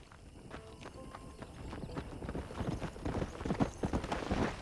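Hooves of a galloping horse in the Red Dead Redemption video game pound in a quickening rhythm, growing louder and closer, heard alone.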